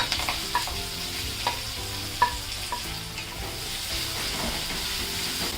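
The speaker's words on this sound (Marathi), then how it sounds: "हा कांदा आहे ना आपल्याला व्यवस्थित चांगला परतून घ्यायचा आहे।" Chopped onion fries with cumin, asafoetida and curry leaves in hot oil in a kadai, a steady close sizzle with occasional stirring scrapes, no talking.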